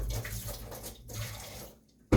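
Water overflows from an indoor water purifier, a steady, moderately loud splashing pour that runs on, then drops away into quiet before a brief sharp knock at the very end.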